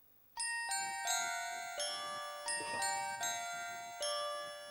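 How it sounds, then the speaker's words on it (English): Handbell tones play a melody, about seven bright, ringing notes struck one after another, each sustaining and decaying under the next, alone and fairly loud. "I started with handbells"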